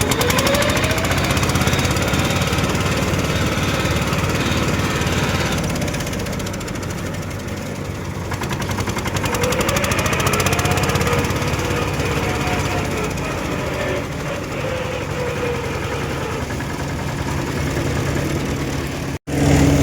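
A Shree Ghanshyam thresher, tractor-driven, running loud and close while it is fed green groundnut plants in a field, a continuous rough mechanical roar with slight swells, cutting off abruptly near the end.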